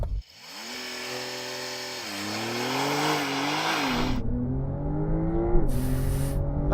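A Porsche 911 Turbo S, loaded with a car full of people and extra ballast in the front boot, launches hard from 0 to 60, its engine roaring up through rising revs with quick gear changes, loud and close throughout.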